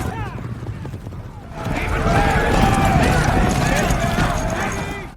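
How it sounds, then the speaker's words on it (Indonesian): Hundreds of horses gallop toward a town in an action film, a dense rumbling thunder of hooves that swells louder after a moment and stays heavy, with shouting voices over it. "Hentakan kaki ratusan kuda terdengar menggema mendekat ke arah kota."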